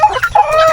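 Guinea fowl on a farm give a brief burst of harsh, loud, close squawking calls, several quick notes in under a second.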